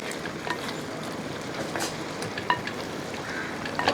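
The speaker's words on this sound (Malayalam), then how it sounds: "ഇത്തിരി കുരുമുളക് പൊടിയും കൂടി ഇട്ടതിന് ശേഷം ഒന്നുകൂടെ ഇളക്കി കൊടുക്കുകയാണ്" Beef fried with black pepper powder and masala is stirred in a pan, giving a steady close sizzle with scattered spoon scrapes and clinks throughout, with no talking.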